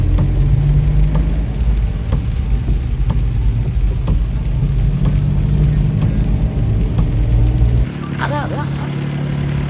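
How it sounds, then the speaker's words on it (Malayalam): Heavy rain during a drive along a road with water flooding both sides, a loud steady wash of rain and road noise from inside the vehicle that continues without a break. "അപ്പോഴത്തേക്കും മഴ നല്ല രീതിയിൽ കൂടിയിട്ടുണ്ടായിരുന്നേ"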